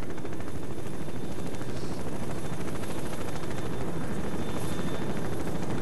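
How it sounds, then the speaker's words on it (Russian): Helicopter rotor blades thumping loudly and steadily in the video game STALKER: Narodnaya Solyanka, a dense continuous whir with engine roar, close and dominant with no talking throughout. "Громко, громко у тебя лопасти работают, очень громко."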